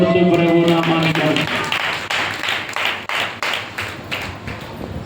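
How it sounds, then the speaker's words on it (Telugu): Worshippers clap their hands together during a live church service, a dense rhythmic patter of many palms that starts out under singing and then carries on alone at a steady, fairly loud level. "చప్పట్లు కొడుతూ ప్రభు నామానికి"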